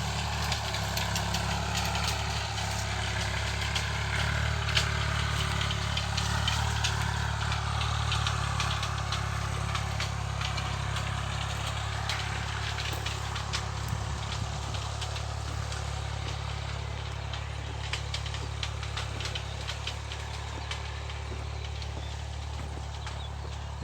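A low tractor engine drones steadily in the background, with light clattering and ticking over the constant rumble.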